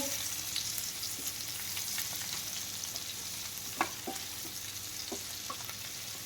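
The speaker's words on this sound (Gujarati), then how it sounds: "તો આવી રીતે એકાદ મિનિટ માટે બટેટાને તેલમાં સાતડવાના છે" Potatoes sautéing in oil for a fasting-day farali dry bhaji, seasoned with turmeric and salt: a steady soft sizzle with a few light stirring clicks, fairly quiet and continuous, no talking.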